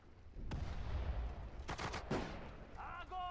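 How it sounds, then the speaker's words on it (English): Gunfire from anti-tank guns in the Sudden Strike 4 strategy game, with several sharp blasts and crackling shots at moderate volume over a low rumble, a voice heard among them. "I want to use the anti-tank guns."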